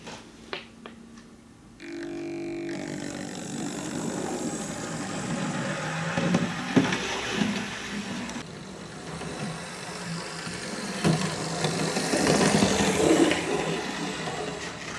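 Hornby A1 Terrier model locomotive shunting wagons, a low rumbling motor whir with soft clicks and rubbing, fairly faint and close, steady for most of the run with slight swells near the end.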